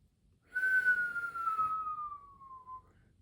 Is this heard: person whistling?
yes